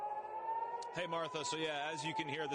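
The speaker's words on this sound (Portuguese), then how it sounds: "as sirenes estão soando aqui em Tel Aviv" An air raid siren wails steadily in the background in Tel Aviv while a person talks over it, the long rising-and-falling tone continuing under the voice.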